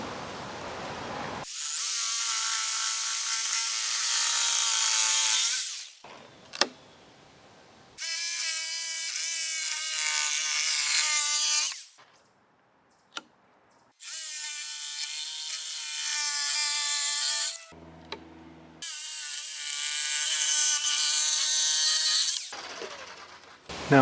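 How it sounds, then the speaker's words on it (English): A jigsaw cuts wood for the roof of a chicken coop, loud and close, running in four long buzzing bursts with short pauses and clunks between them. "Might have to switch to a jigsaw."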